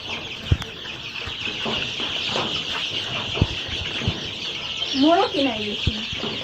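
Several chickens clucking nearby with short sharp knocks and a brief rising squawk near the end, over a constant background hum.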